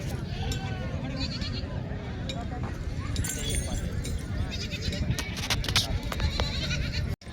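Goats bleat now and then amid a noisy crowd at a busy goat market, with people chattering throughout and scattered clattering nearby.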